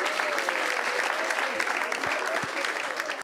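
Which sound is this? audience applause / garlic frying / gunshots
audience applause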